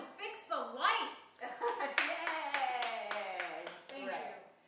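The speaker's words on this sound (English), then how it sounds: "Yay, applause." A small audience claps in a quick, uneven burst while voices cheer and call out over it.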